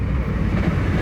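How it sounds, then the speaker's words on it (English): Low rumbling of a train rolling by nearby, a heavy steady roar with faint rhythmic clatter. "Here's a train."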